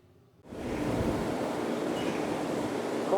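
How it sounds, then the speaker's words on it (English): A Chiltern train runs near Aylesbury Vale Parkway on the London Underground network. After near silence it swells in suddenly with a loud, steady, broad rumble and rushing noise that carries on to the end. "Got one of the Chiltern trains into Aylesbury Vale Parkway"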